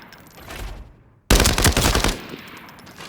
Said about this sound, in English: So I'm now gonna test hipfire at 10 meters and at 30 meters.